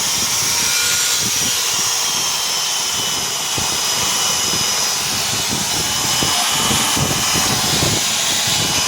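A power sander works over a wooden bed frame with a continuous loud whirring hiss and scattered scraping, steady throughout with no pauses.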